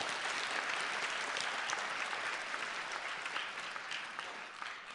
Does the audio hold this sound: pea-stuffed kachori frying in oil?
no